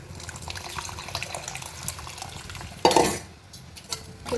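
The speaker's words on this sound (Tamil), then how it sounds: "இப்போ நம்ம கரைச்சி வச்ச புளியை எடுத்து இதில் ஊற்றிடலாம்." Dissolved tamarind is poured into a pot already boiling with coriander and asafoetida, starting as a sudden splashing gush after faint kitchen clatter, then settling to a quieter bubbling, with no talking.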